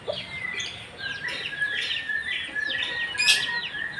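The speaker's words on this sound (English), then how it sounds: "This is a lovebird, and that is murai bird" A kept lovebird and a murai bird (magpie-robin) chirp and sing at a home in Cianjur, West Java, a lively run of repeated bright whistles and tweets, close and continuous, with no speech.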